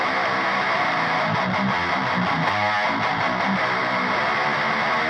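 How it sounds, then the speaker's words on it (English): Distorted rhythm guitar with a Swedish chainsaw-style tone from a Grindstein pedal, buzzy and saturated, playing steady riffs at a constant loud level without any talking. "And I combined that with 2 tracks of like Swedish chainsaw tones."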